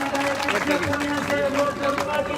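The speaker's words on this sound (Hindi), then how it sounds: "हमारे बीच जोरदार तालियां रीटा जी के लिए" Crowd at a ceremony honouring Tokyo 2020 Olympic medal winners in Rajgarh, Churu, applauding MLA Rita Chaudhary, a steady loud wash of clapping mixed with crowd babble and tonal sound underneath.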